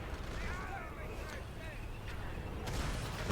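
A battle cannon in the real-time strategy game Rise of the Reds fires artillery into massed troops. Its deep booms come faintly under steady battlefield rumble and game ambience, with a stronger blast near the end.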